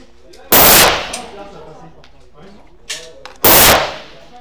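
Two loud, sharp pistol shots from a Bersa Thunder handgun, spaced about three seconds apart, each with a brief ringing decay, in a quiet setting with faint talk in between.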